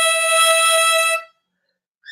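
A single sustained harmonica note blown into hole 11 for the high E, bright and steady for about a second before stopping abruptly, followed by silence and a faint onset of another tone.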